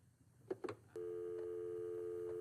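A telephone handset is picked up with a few short clunks, then a steady, continuous dial tone starts and holds at an even level until the end.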